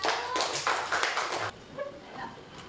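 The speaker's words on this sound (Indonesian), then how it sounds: "Tepuk tangan dulu untuk kelompok 1" A classroom group applauds another group with a short burst of scattered clapping that stops abruptly after about a second and a half, followed by a few faint, brief sounds in a quiet room.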